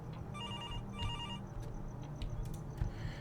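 Telephone ringing in the video game Within of Static, with two bursts of an electronic bell ring followed by scattered clicks and thumps, moderately close over a low background hum.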